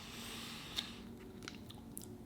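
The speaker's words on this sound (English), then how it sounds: "I just take a quick break and eat a protein bar." Someone eats a Power Crunch salted caramel protein bar, producing quiet, close bites and soft crunchy chewing in a few brief bursts against low background hiss.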